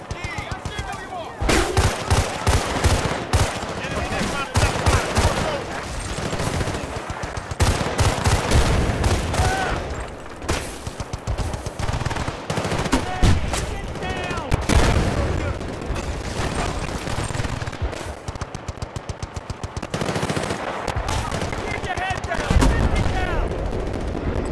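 Machine gun fire and rapid gunshots rattle through a Battlefield Bad Company 2 battle in repeated bursts, with explosions mixed in and shouted talk over the top.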